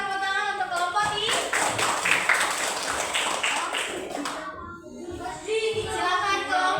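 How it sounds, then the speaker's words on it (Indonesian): Classmates clap for a group in an elementary school classroom, a dense burst of hand claps for several seconds that fades, then resumes more sparsely amid chatter and voices. "kasih tepuk tangan untuk kelompok I"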